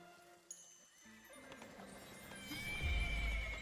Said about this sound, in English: Oh, Rainbow Horse!